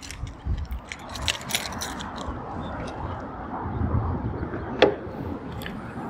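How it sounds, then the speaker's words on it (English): Keys jangle as a 2017 Tesla Model S front trunk is popped open by double-pressing the key fob, followed by a soft mechanical latch click and struts lifting, heard close with light handling noise. "to pop that open, again, you use the key and you're just going to push the front instead. And it's a double click and boom."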